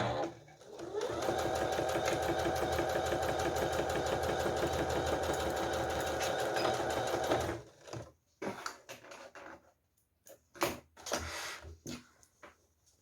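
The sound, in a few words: sewing machine stitching a fanny pack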